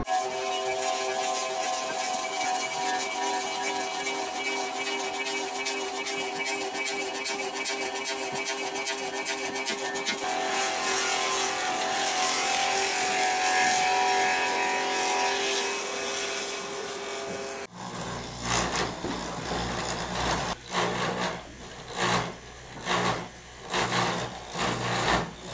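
A machine shapes wooden clog shoes, giving a steady whirring, rasping drone that swells midway, then gives way to rhythmic pulsing grinding bursts near the end.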